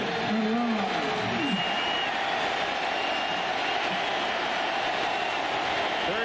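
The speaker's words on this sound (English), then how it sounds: "Good round of applause for him." A stadium crowd at a 2000 college football game, Tennessee against Southern Miss, fills the air with a continuous roar of applause and cheering, while a commentator talks over it.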